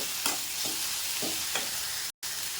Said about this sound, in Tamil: இதெல்லாம் போட்டு நல்லா வதக்கலாம்